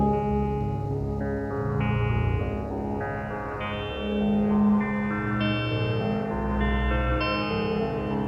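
Hydrasynth sweeping through a wavetable in a modular synth patch as a knob is turned, sustained stepped tones shifting in timbre from glassy digital to mellow, with chorus-like shimmer and no talking.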